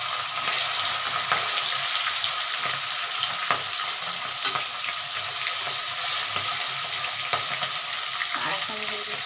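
Medium-sized tangra fish, marinated with lime juice, fry in a pan with a steady, dense sizzle and crackle throughout, with a few sharper pops and spits rising above the hiss.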